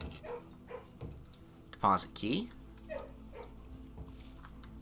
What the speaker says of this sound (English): Yes, we can pet the doggy that has seen a million horrors.